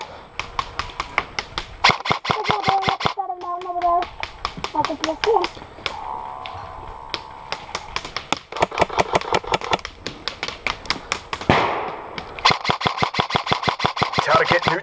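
Rapid automatic gunfire in the Crossfire video game, sharp evenly spaced shots in long bursts broken by short pauses, loud and close, with brief tonal game sounds in between.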